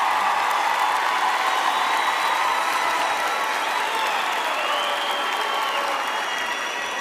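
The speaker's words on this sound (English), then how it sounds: "Let us give our graduates a big hand for their hard work and perseverance." A large audience at a university health sciences graduation ceremony applauds the graduates, a broad continuous wash of clapping with a few cheers, loud and sustained throughout.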